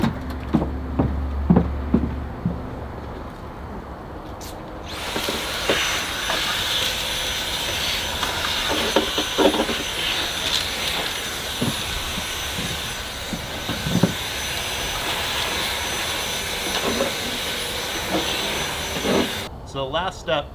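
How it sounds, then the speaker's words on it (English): A vacuum cleaner whirs loudly with a steady hiss after starting up, running continuously for most of the stretch before cutting off near the end. "This is where you snag your wife's vacuum and you don't tell her."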